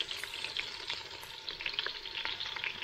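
Chopped onion fries in a pan outdoors at night for a village-style dry chicken dish, giving a close, steady sizzle with crackling pops and brief stirring scrapes, no voices.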